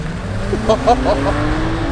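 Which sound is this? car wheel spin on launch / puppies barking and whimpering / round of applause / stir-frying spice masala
car wheel spin on launch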